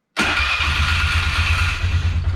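A 2001 Polaris Sportsman 500 HO ATV engine catches abruptly from silence and settles into a loud, close, steady idle with an even low thrum and a faint rattle from a broken exhaust heat shield.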